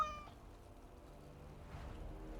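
A kitten in the Dragon Age: Awakening video game gives a short meow at the very start, then quiet game ambience follows with a faint murmur of background sound.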